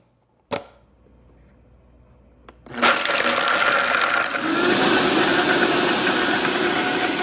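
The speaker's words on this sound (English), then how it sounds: "you're gonna blend this on high to create a powder" A click, then a blender starts and runs at high speed, whirring loudly and steadily as it grinds freeze-dried cherries into powder.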